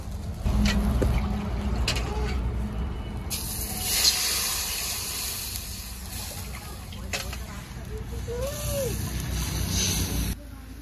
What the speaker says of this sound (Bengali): এবার ঝোলের জন্য পরিমাণ মতো জল দিয়ে দেব।